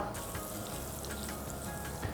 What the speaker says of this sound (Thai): ใส่เนยลงไปในกระทะร้อนๆนะครับ